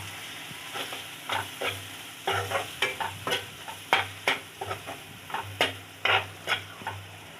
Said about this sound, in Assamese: আকৌ এবাৰ ভালদৰে লৰাই দিম এনেধৰণে।